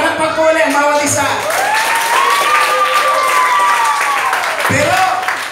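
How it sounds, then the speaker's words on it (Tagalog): A church congregation breaks into sustained applause, a dense wash of clapping with scattered cheers, while a voice talks over it throughout. "Pumalakpak po ulit ang bawat isa."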